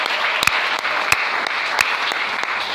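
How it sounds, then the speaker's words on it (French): A church congregation claps steadily in praise of the Lord, a dense, continuous wash of applause filling the room, with a few sharper claps standing out near the front. "Est-ce qu'on peut acclamer le Seigneur?"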